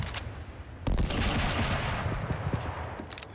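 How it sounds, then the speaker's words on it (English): A nade gun in a video game firing grenades, heard as a dense, loud burst of explosive shots and blasts that starts abruptly and rolls on continuously with repeated sharp impacts. "the nade gun just shoots grenades"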